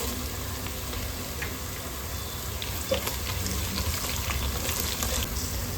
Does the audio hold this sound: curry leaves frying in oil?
yes